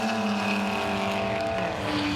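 A BMW race car, heard from onboard, drives through turn one at Hampton Downs with a loud, steady engine drone that holds continuously throughout.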